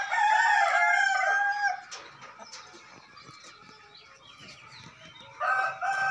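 Black Manarka fancy chickens at a poultry farm crow and cluck loudly and close, a strong burst at the start, quieter scattered clucks through the middle, then another loud call at the end.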